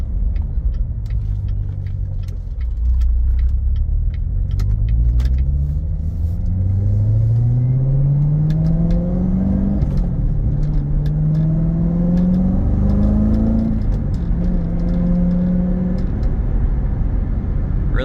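A 2016 Chevrolet Corvette Z06 3LZ revs and accelerates through the gears, its engine note climbing repeatedly in loud, close, rising sweeps with brief dips at the shifts.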